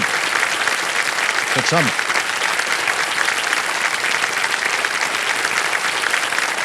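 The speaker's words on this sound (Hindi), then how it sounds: "तालियां बज जाए इनके लिए" Studio audience applause on a Hindi quiz show set, Kaun Banega Crorepati, a steady dense roar of many hands clapping throughout, with a brief voice cutting in partway.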